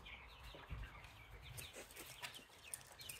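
Chickens on a farm with egg layers and meat birds, soft scattered clucking at a distance, faint and continuous with no talk.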